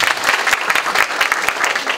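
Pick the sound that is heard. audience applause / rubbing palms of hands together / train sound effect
audience applause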